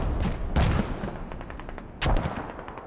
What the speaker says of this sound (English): this is some, larger mortar rounds